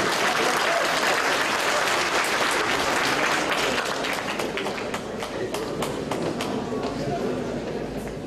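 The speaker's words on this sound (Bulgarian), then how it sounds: "чудесно, аплодисменти" An audience applauds at a university celebration for Mining and Geology University St. Ivan Rilski, with dense, loud clapping that holds steady throughout.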